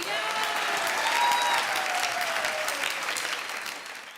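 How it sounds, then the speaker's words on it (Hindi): Loud, steady applause from a studio audience at a Hindi stand-up comedy show, dense clapping sustained for about four seconds before tapering slightly at the end, with faint tonal sounds running underneath. "तालियों में जोर होना चाहिए"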